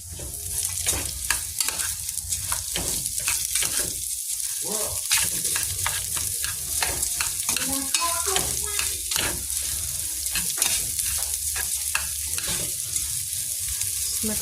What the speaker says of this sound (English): Mix that in, and you want to just let it brown and let the veggies soften up